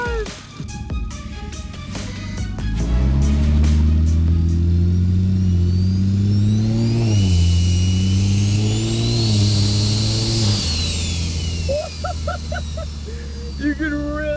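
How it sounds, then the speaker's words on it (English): A cheap, abandoned BMW fitted with a giant turbo revs up close and loud for several seconds, its engine note climbing as a high turbo whistle rises and then falls away, with a brief voice near the end. "You can really hear that turbo."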